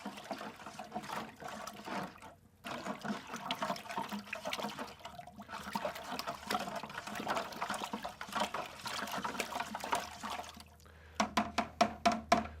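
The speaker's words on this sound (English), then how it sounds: "you want to stir well to make sure and dissolve all the powder" Warm water is stirred in a winemaking bucket to dissolve Easy Clean powder, giving a continuous close swishing and sloshing that pauses briefly, then ends in a few sharp knocks.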